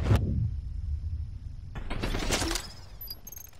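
Rapid gunfire from Batman: Arkham Knight rattles in a dense, steady burst through the first part, then cuts out and gives way to mechanical clatter and a few short metallic clicks and tones.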